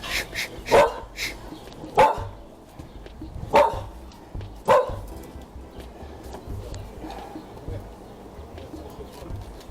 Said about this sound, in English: nice dog. Where's this guy? Nice dog.